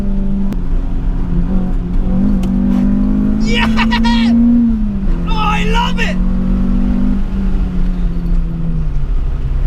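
A 2005 Renault Clio 182 engine revs high and climbs in pitch as the car accelerates, holding a strong, steady tone before easing off, while a driver exclaims excitedly over it.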